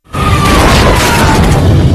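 A sudden, loud plane explosion bursts in and roars on as a sustained, rumbling blast with a thin whine through it.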